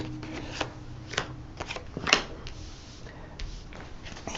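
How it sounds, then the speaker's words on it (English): Tarot cards are dealt onto a table in a few distinct close slaps and soft slides, with quiet handling rustle between them. "I'm just going to deal the cards"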